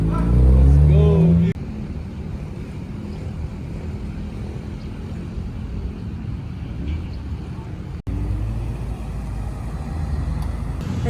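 A Mazda RX-8 on a road test after an alignment, a steady interior drive rumble with road and wind noise throughout, briefly interrupted by a loud burst at the start.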